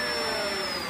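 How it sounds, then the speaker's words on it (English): Dyson DC17 upright vacuum cleaner running at a steady high whine, its motors humming with rising tonal pitches as the brush motor spins up, close and continuous for a second. "the brush motor kicks in"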